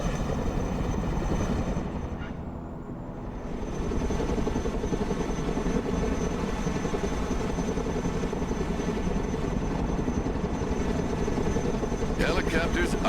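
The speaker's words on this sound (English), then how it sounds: "Helicopters are impressive machines. Boy, are they noisy." Helicopter rotor and engine noise from the military strategy game Broken Arrow, a steady broadband drone that dips briefly then holds loud and continuous, with game voices faintly underneath.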